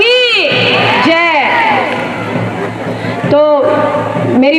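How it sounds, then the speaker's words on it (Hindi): A crowd at a women's yajna ceremony cheers and shouts loudly, sustained and dense, while amplified speech breaks through in short bursts over the noise. "जोरदार तालियों द्वारा एक बार बहनों का सभी लोग अभिनंदन करें"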